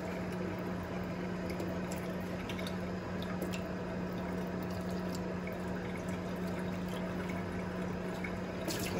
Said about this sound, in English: It's 300 grams of water. So I just like got it on my scale and now I just add it.